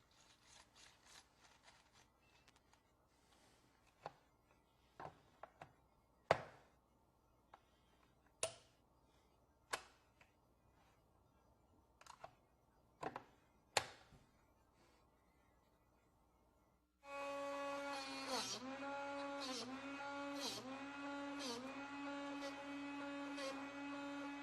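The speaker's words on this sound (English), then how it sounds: "Now, watch as a bit is aligned," A Drill Doctor 500X or 750X drill bit sharpener first clicks and scrapes as a bit is aligned in its chuck, with sharp taps spaced over several seconds, then the motor starts and grinds steadily and loudly, the pitch dipping and recovering as the bit is turned against the wheel.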